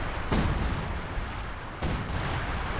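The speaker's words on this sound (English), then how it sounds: "This is major artillery." Heavy artillery firing in the strategy game Company of Heroes 2, two loud booming blasts about a second and a half apart over a dense, rumbling battle din.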